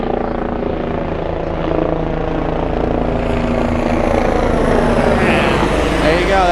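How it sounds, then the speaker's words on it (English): A police helicopter passes overhead near Frankfurt Airport, a loud, steady rotor and engine drone that swells slightly as it nears and fills the whole stretch. "That was a police helicopter."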